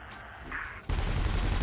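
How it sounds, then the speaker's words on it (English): Ship weapons fire in the space game Elite Dangerous, including a cannon and a laser: a sudden, loud burst of rapid gunfire-like blasts cuts in after a quieter hum, with no voices. "Your cannon will automatically reload until the ammunition supply runs out."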